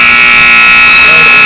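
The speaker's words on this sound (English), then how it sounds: "the buzzer went off before they could get a really easy layup to close out that quarter." End-of-quarter buzzer at a high school basketball game between USN and Mount Juliet Christian: a loud, steady electronic blare that holds throughout, with crowd noise underneath.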